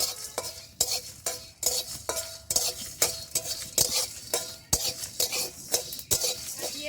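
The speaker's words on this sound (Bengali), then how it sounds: "এবার দিয়ে দেবো ধনিয়া আর গোলমরিচ কিছু সময় ভেজে নেবো" Coriander seeds and black pepper frying in a pan for sweet-sour mango pickle, with rhythmic spatula scrapes and clinks against metal over a light sizzle, close and steady.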